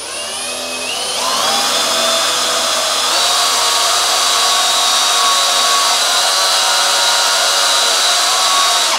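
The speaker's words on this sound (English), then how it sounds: "we're going to drill a small centering hole in there for the adjuster screw" A power drill bores a small centering hole for an adjuster screw in a turbo wastegate, the motor spinning up within the first second or two and then holding a loud, steady high-pitched whine, with no talking.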